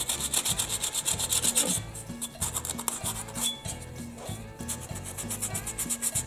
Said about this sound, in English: Give it a little scuffing. Nice and clean. Aluminum.